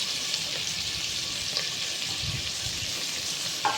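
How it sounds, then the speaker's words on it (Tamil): Chopped tomatoes and salt sauté in hot oil for tomato rice, making an even, continuous sizzling hiss up close with faint occasional stirring clicks. "அதை ஆட் பண்ணிவிட்டு உப்பு ஆட் பண்ணி நல்லா வதக்கி விட்டுக்கணும்."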